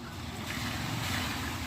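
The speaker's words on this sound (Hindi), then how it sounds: "बारिश लगातार हो रही है" Continuous rain falls on standing water outdoors at night, a dense, steady hiss and patter with no pauses.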